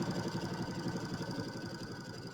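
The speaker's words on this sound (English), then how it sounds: "So we're just going to sew all the way around with our 1/4 inch seam" A sewing machine runs a quarter-inch seam around a quilted piece, its motor giving a steady, rapid, even stitching chatter close by with no pauses.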